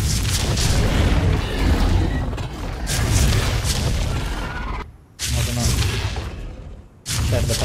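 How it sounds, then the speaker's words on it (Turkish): Inside a base in the video game Ark, heavy booms and rumbling blasts roll almost continuously, cutting out abruptly twice before resuming loudly, with voices talking in the background. "içeride patlıyor"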